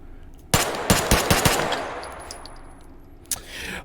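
A burst of rapid AR15 gunfire in the VR shooter game H3VR: about five sharp shots in quick succession, then a decaying echo and one more shot near the end, loud and close.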